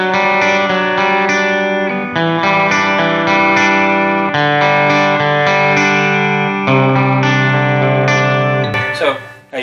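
Electric guitar through a GarageBand amp preset set for a band's tone, playing sustained distorted chords with reverb, loud and continuous, ending in a brief scrape of noise.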